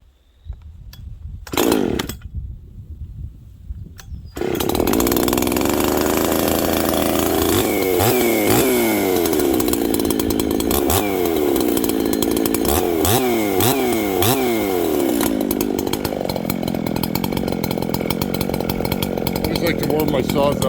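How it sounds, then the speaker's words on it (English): A ported Jonsered 630 Super chainsaw fires up after a few brief pulls and runs loud and close, holding a steady high whine with repeated revving surges, while someone talks briefly near the start. "Let's run some chainsaws and have some fun."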